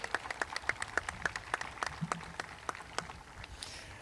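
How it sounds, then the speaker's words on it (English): Scattered applause rings out at a high school commencement ceremony, with sharp individual claps in a quick, uneven rhythm that thin out toward the end, fairly faint and distant. "Let's give a round of applause for Mrs."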